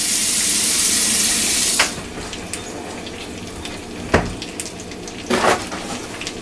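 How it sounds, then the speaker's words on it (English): A kitchen tap runs steadily as hands are quickly rinsed, a close hiss of water that cuts off after a couple of seconds, followed by a few scattered knocks and splashes. "I'm just giving my hands a quick wash here"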